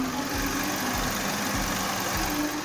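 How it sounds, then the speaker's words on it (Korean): Gasoline engine of a full-size sedan idles with the hood open, a steady low hum with soft rhythmic pulses, smooth and quiet, recorded close to the engine bay with no voices. "엔진 소음 담기 위해 본네트를 한번 열어봤는데요 영상으로 엔진 소음 한번 담아보도록 하겠습니다"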